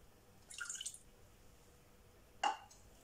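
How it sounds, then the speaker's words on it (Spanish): Water going into a saucepan for caramel in a home kitchen: a short soft splashing pour, then a single brighter drip-like splash a moment later, both quiet against a low background. "En un cazo ponemos 100 ml de agua"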